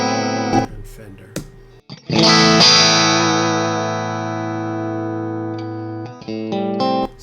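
An electric guitar played through a Fender amp with effects rings out in sustained, distorted chords with a long decaying tail, followed by a few shorter picked notes, loud and close.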